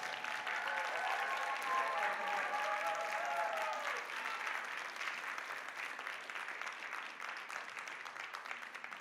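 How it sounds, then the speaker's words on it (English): A large audience at a research film prize ceremony applauds steadily and continuously, moderately loud and slowly thinning, while a voice briefly speaks over the opening seconds. "we can applaud them one more time"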